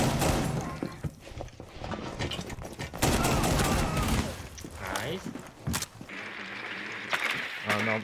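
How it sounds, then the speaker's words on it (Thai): Gunfire in Rainbow Six Siege: repeated bursts of shots and impacts crackle through the round, mixed with thuds, footsteps and chatter from game voices and players. "ยิงนะ"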